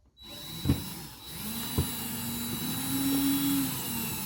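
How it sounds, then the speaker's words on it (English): An electric drill removing T20 screws from an RV door lock whirs steadily at close range, rising in pitch as it spins, with a couple of sharp knocks and a constant faint high hum behind it. "Using a electric drill is recommended because although it's a short screw"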